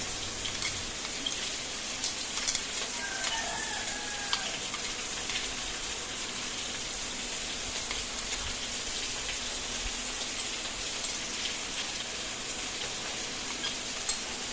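Ginger, garlic, onion and chilli paste frying in a pan, a steady dense hiss of sizzling oil that runs loud and unbroken throughout, with a few faint clicks.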